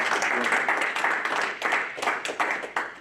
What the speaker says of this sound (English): And so kudos to you, and I wouldn't mind a little round of applause for Matt doing this.